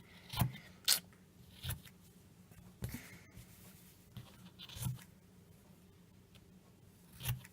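Scissors cut through the fabric of a maxi dress in a few scattered, quiet snips and scrapes, separated by pauses, close over a faint background hum.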